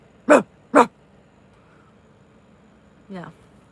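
A person imitating a dog with two sharp, loud bark-like yelps in quick succession, then a shorter, softer yelp after a pause.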